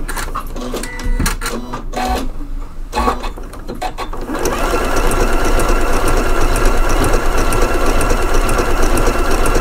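A Janome Memory Craft 9480 sewing machine topstitching through denim: after a few seconds of quiet clicks and handling, the motor starts and runs a steady, fast, loud mechanical stitching whir close up, with no talking.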